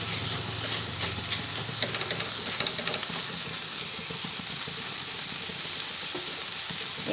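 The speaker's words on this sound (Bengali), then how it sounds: "চিনি দিয়ে আবার ভালোভাবে নাড়াচাড়া করে দিই" Banana flower curry being stirred in a pan after sugar is added, with a steady sizzle and a scraping, clattering stir that runs throughout at close range, alone with no voices.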